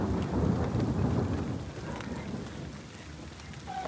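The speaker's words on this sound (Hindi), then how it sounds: "गरज चमक के साथ बारिश हो रही है" Heavy rain pours steadily through a thunderstorm in an outdoor setting at a chicken farm, with rumbling thunder swelling early and then easing into a constant dense hiss of rain falling on surfaces, with no voices.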